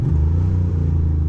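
A Ducati motorcycle engine lifts the front wheel in a small wheelie, giving a deep, steady, close-up rumble that holds constant throughout with no voices.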